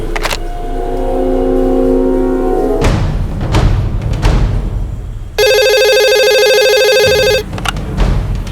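A telephone rings with a loud electronic ringtone burst lasting about two seconds, following thumps, a car engine and other scene noises in a crime drama about a railway station bomb plot.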